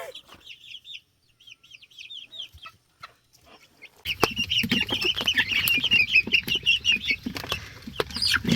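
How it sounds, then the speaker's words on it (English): Barred Rock chickens in a coop built from pallets, with soft repeated clucks and chirps, then a louder, busier stretch of close clucking and flapping noises in the second half. "Chickies."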